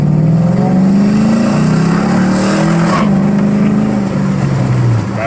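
Chevrolet Silverado truck with an LY6 V8 engine accelerating at half throttle from inside the cab, a loud, steady rising engine drone with a gear shift partway through.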